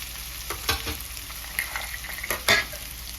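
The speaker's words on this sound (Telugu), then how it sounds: "జీడిపప్పులు పచ్చి జీడిపప్పులు ఉన్నాయి కదండి అవి దీంట్లోనే వేసి ఫ్రై చేసుకోవాలి" Raw cashews fry in a pan for a cashew chicken fry, a close oily sizzle with a few sharp scraping stirs and clinks against the pan, with no talking.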